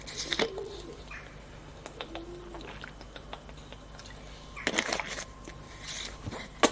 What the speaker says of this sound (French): Il y a les pigeons qui roucoulent au-dessus de moi.